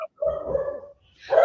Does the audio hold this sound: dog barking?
yes